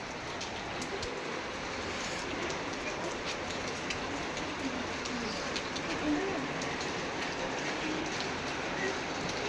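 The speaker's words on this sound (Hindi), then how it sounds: "बाहर बारिश हो रही है कंटिन्यू" Continuous rain falls outside with a soft, even hiss of drops on surfaces. It stays faint and steady throughout, with occasional bird calls and cooing pigeons in the background.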